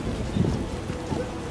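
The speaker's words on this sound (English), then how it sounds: "Storm's already here, lady." Steady rain and a low, rumbling thunderstorm fill a game world in The Witcher, a dense continuous wash with a brief deeper rumble close by.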